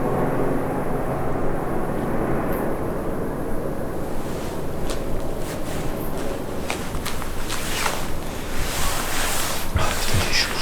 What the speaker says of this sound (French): On va attendre qu'il passe l'hélico.